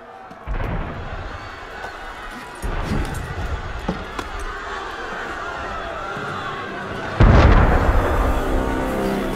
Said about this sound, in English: That was cannon fire.